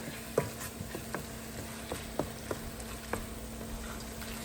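Chermoula sauce sautés in a pan, giving a low steady sizzle broken by scattered soft pops and stirring clicks; no one speaks.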